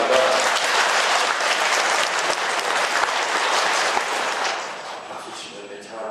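A church congregation applauds during a homily at a Catholic pilgrimage shrine, a dense, steady wash of many hands clapping that stays loud throughout and eases slightly toward the end.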